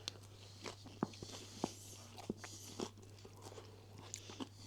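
Crunchy homemade pizza bitten and chewed, a sparse series of sharp, close crackling crunches at irregular intervals over a quiet background with a low steady hum.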